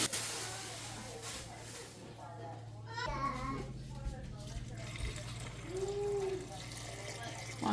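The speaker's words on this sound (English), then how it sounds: "I'll cover my green beans in some water." Water runs from a tap into a pot of green beans, a steady splashing stream under a child babbling and an adult talking nearby.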